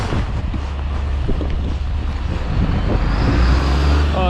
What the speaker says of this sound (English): And snow truck.